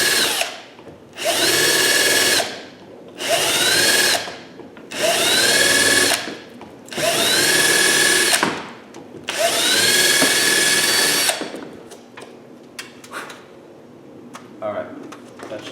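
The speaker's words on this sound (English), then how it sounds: "This hole doesn't line up so well, so I'm just going to drill it a little bit" A power drill enlarges a misaligned screw hole while a boat portlight lens is replaced, running in five bursts of about a second each with short pauses between them, then going quiet for small handling noises.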